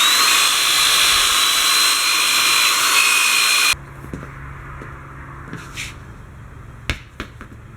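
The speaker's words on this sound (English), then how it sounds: "I'm just going to wire brush that and put it back together." Power wire brush scouring the inside of a Wheel Horse 704 garden tractor wheel rim, a loud steady abrasive whir lasting nearly four seconds, then stopping abruptly and leaving faint scattered clicks and handling noises.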